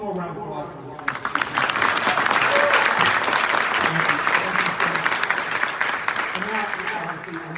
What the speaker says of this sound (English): One more round of applause for Waltz.